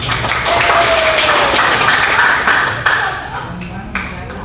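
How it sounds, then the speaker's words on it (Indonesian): A classroom group claps together in a burst of quick, overlapping hand slaps that fade after a few seconds into scattered taps, with a voice speaking over the clapping. "tepuk tangan untuk kita semua"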